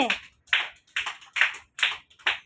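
Young Anganwadi children clapping in unison, five or six loud, evenly spaced group claps close by, with a brief voice at the very start.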